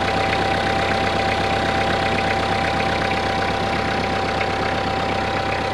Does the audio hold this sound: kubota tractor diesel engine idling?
yes